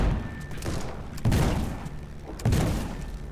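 Spaceship cannons firing in a video game, heavy booming blasts roughly every second and a quarter, each followed by a rumbling decay, loud and close with a faint tone underneath.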